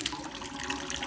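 Coolant drains out of a Toyota Yaris T Sport engine in a steady, continuous gushing pour, with no one talking.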